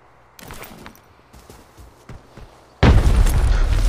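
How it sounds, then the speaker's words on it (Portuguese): In Tarkov Mobile, scattered gunshots and clicks give way to a sudden loud grenade explosion, a heavy sustained boom that rumbles on to the end. "Granada!"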